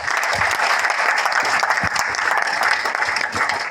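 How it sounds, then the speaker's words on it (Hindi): Loud, steady applause from a crowd at a network marketing business seminar, dense clapping filling the whole stretch without any voices on top. "एक बार अपने लिए जोरदार तालियां"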